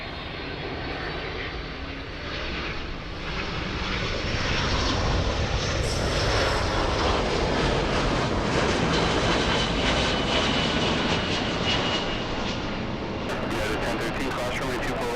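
A Boeing 757 jet airliner at Los Angeles International Airport roars steadily, with broadband engine noise swelling after a few seconds and holding loud and close to the end.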